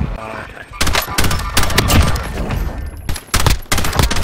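Bursts of rapid gunfire in Call of Duty Warzone, loud and close, with several dense volleys broken by short pauses, mixed with other game sounds.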